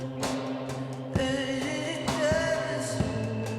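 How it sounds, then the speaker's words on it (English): A voice sings a wordless, mumbled melody over a steady musical backing, syllables blurring into a rough tune. "what you're hearing is a mumble track"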